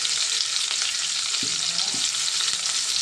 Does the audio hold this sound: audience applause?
no